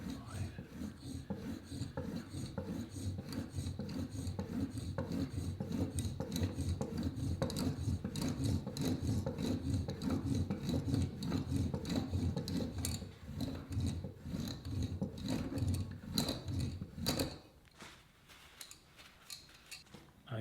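A blade is worked back and forth on an Ash & Co diamond sharpening system in a guide, a steady run of close, rapid raspy scraping strokes that stop abruptly near the end, leaving quiet.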